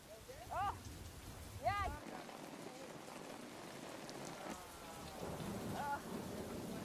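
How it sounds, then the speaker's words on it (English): Steady rain pours down in a continuous wash, with a low rumble early on and a few sliding tonal calls rising above it. "it rains in torrents for a month"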